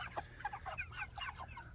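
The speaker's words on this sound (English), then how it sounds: "So here are the broilers." Broiler chickens at processing size and age cluck in a short, soft run of overlapping calls, with steady low barn noise underneath.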